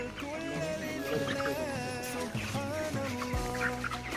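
Chickens on a poultry farm cluck close by, several birds calling over one another in a steady, busy stream of short throaty notes.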